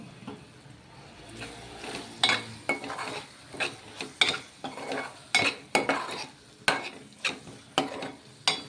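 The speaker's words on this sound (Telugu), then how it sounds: "కారం కొంచెం వేస్తున్నాను కొంచెం వేసి కలుపుదాం" A spoon scrapes and clinks in a pan as chili powder is stirred into hot oil for a dried fish and tomato curry, with about a dozen sharp strokes over a low sizzle and no talking.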